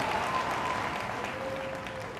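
A seated business audience breaks into a wash of applause, many hands clapping together in a steady, moderately loud stretch that fades slightly toward the end.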